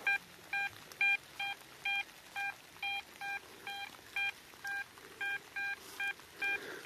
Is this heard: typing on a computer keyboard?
no